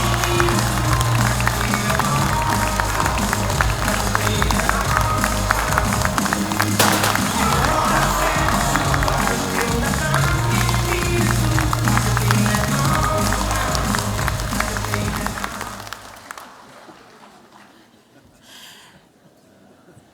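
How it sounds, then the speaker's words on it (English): Applause fills a university graduation ceremony hall, a dense rumbling mass of clapping from a large crowd that runs strong for about fifteen seconds before fading away to near silence. "Everyone, please join me in a worthy round of applause."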